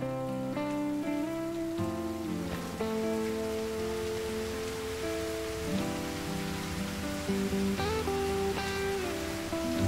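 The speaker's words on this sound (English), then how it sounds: "Oh, it's raining." Steady video game rain patters continuously beneath sustained musical tones, a soft even wash of falling water with no voices.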